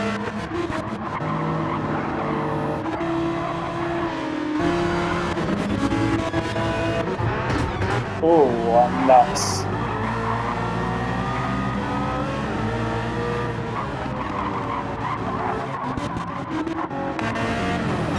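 A BMW GT3 race car roars past in a wet-weather race on the Nürburgring 24-hour layout in a racing video game, the engine drone rising and shifting with tyre noise, while a commentator talks over it.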